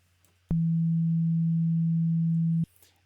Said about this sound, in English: we might want, for example, a very smooth sound with the sine wave in a medium octave